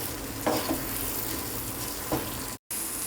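Instant wheat halwa being stirred in a pan on the stove, a steady soft scraping and faint sizzle with a couple of louder strokes and a brief cut to silence near the end.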